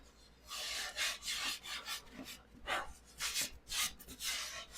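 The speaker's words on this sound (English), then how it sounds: "Now this is where you want to do your final sand" Hand sanding of a wooden coffin-shaped snack tray, a series of rhythmic raspy rubbing strokes, close and steady with brief pauses between passes, and no talking.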